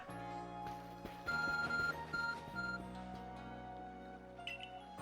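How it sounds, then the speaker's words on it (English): Short electronic beeps from the Arc phone in Pokémon Legends: Arceus sound over steady game music in a repeating pattern, then stop as the music continues alone. "Your Arc phone is beeping."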